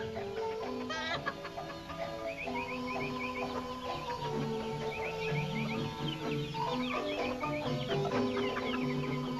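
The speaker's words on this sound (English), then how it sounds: "Mamacita attended to the chickens." Chickens in an old village farmyard cluck and chatter continuously under a background music score, with repeated soft clucking phrases and occasional higher calls throughout.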